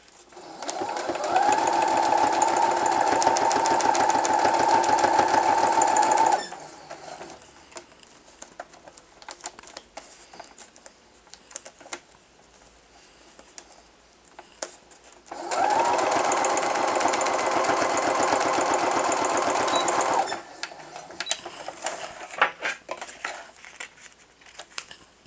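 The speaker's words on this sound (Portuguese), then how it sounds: "E aí eu vou rebater aqui a costura, tomando cuidado para ela ficar bem em cima da de baixo" Sewing machine topstitching a seam on a scallop purse, two loud bursts of fast, rhythmic needle clatter lasting several seconds each, with quiet handling noises and pauses between them.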